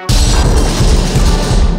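A toaster being smashed on an angry-mom rage day, one loud continuous crashing and clattering burst of metal and debris, close and sustained.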